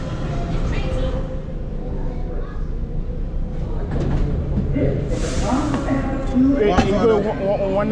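A New York City subway train pulls into the station, its rumble and hiss steady under crowd chatter and nearby voices, with brake squeals rising near the end.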